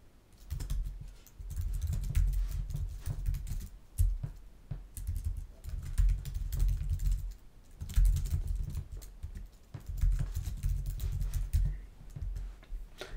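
Steady bursts of typing on a computer keyboard, close and clear, with brief pauses between runs of keystrokes and no talking.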